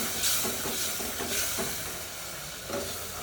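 Chicken curry masala roasting in a pan with a splash of chicken stock, giving a loud, continuous sizzle and hiss with occasional soft stirring scrapes up close.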